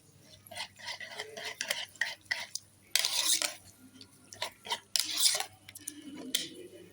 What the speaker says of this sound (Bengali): এবার ভালো করে এগুলোকে আমি মিশিয়ে নেব।